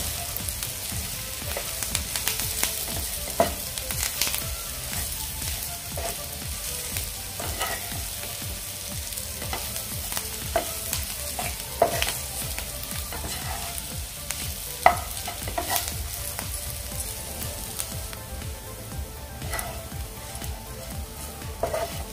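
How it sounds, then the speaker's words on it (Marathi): Bitter gourd bhaji with fresh coriander is stirred in a frying pan, with a continuous close sizzle and a steady run of spatula scrapes and light clinks against the pan. "आता आपण हे व्यवस्थित मिक्स करून घेऊया"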